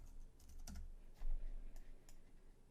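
Typing on a computer keyboard, a quiet scatter of close key clicks in uneven bursts with brief pauses, heard alone.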